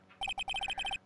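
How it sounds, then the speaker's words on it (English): Phone ringing in the Phoenix Wright: Justice For All video game: a rapid electronic trill of about ten short bright pulses in quick succession, loud and alone, lasting under a second. "Oh, that's his phone."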